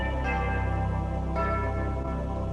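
Organ's Christmas chimes voice ringing over a choir setting, bright bell-like tones struck in sequence with lingering sustained resonance.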